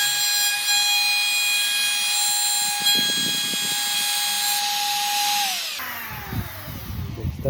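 A power drill with a large bit bores into wood for a mortise joint, a loud whining tone holding steady with grinding bursts before the motor winds down and stops, followed by softer clatter.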